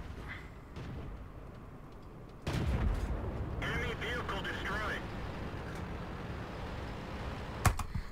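Artillery fire in the World of Tanks video game, with a sudden booming blast partway through, a rumbling tail, scattered sharp cracks and game effects over a continuous engine-like drone. Someone talks over it.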